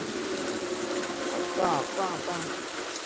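Rainwater from heavy rain rushing and gushing in a steady, fairly faint flow, with brief talk partway through.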